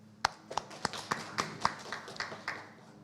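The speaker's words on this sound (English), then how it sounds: "Please join me in clapping for ourselves." Graduates at a university commencement ceremony clap in sharp, distinct claps roughly every quarter second, a small, fairly quiet group rather than a thunderous ovation.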